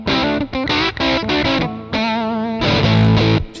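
An electric guitar plays through a six-knob fuzz pedal, giving loud, thick, saturated chords and sustained notes in short bursts with brief gaps, some notes wavering, and no talking.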